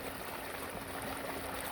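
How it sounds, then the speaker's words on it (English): Water trickles down through a log into a backyard pond, a faint, steady running-water wash with no talk. "we have water coming into it"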